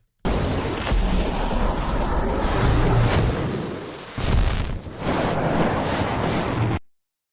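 A dense, roaring fire effect with crackling and rumbling bursts swells for several seconds, briefly dips, then surges again before cutting off abruptly.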